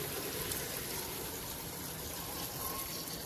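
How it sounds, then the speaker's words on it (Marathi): Water gushing steadily into a pot of Malvani chicken curry, a continuous loud pour with a broad splashing wash that holds even throughout, with no voices. "पाणी ओतताना आपण एकदम ओतायचं"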